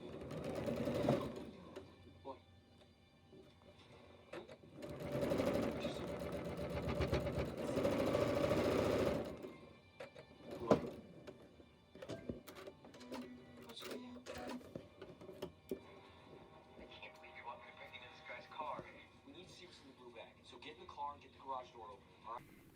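A sewing machine stitches quilt pinwheels together, a steady mechanical whirring hum in two bursts lasting several seconds each, followed by clicks, fabric handling and quieter pauses, with someone talking.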